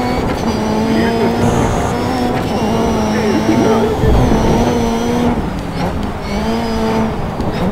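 A Subaru rally car in the Dirt 3 racing game roars at high revs, its engine note rising and falling through gear shifts, loud and continuous, with people talking over it.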